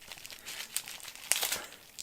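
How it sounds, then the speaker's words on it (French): Plastic or paper package wrapping around a small soap bar being torn open and crinkled by hand, with scattered close, faint rustling crackles and a couple of sharper rips. "j'ai pas du tout envie de déchirer ça"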